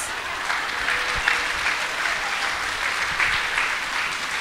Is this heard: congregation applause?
yes